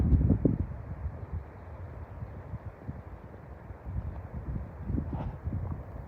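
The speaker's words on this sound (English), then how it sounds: "You can tell the breeze, actually wind, has not gone away." Steady wind rushing across open, forested countryside in western New Jersey on a chilly day, a broad low roar with gusts swelling near the start and again toward the end, with no voices.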